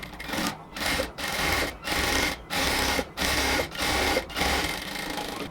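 Sewing machine double-stitching the sleeve of a cotton kurti, running in a series of steady motorized bursts of about half a second each, separated by brief pauses, close and loud with no talk.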